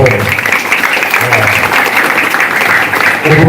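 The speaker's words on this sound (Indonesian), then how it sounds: "Tepuk tangan untuk Pangkalan Bun" A crowd at a humorous religious lecture gives loud, continuous applause, with a low voice briefly audible beneath the clapping.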